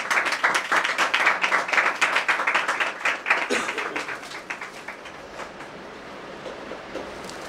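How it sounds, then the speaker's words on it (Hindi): A congregation at the grand opening of a prayer hall in Indore claps in a fast, rhythmic unison beat that starts loud, then gradually fades and thins out to near stillness. "बजाओ ताली।"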